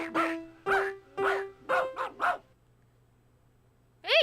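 A cartoon dog in the 1995 Dr. Seuss' ABC video game gives six short, bright, yappy barks in quick succession, then falls quiet over a faint low hum before one more bark starts at the very end.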